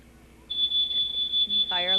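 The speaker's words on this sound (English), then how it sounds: "Fire alarm just went off." A fire alarm at a 1993 fire department open house sounds a sharp, continuous high-pitched electronic tone that starts abruptly and holds steady, with a voice speaking over the end.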